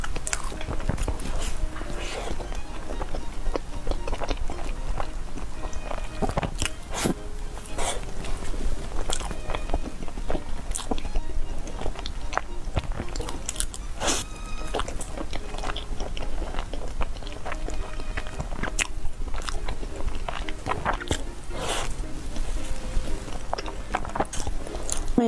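Biting and chewing matcha-filled mochi dumplings, repeated close, sharp mouth clicks and soft squishy chewing at an irregular rhythm, with occasional faint whispered or quiet vocal sounds.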